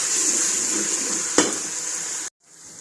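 Spices and chana dal frying in a pan give a loud, steady sizzling hiss, broken by one sharp clatter midway and a sudden stop before the sizzle softly resumes.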